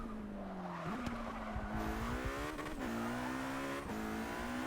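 Hypercar in Forza Motorsport 6 (Ferrari LaFerrari, McLaren P1 or Porsche 918 Spyder) holding a steady loud engine note, with brief tire squeals and pitch dips as it brakes and shifts, no talking.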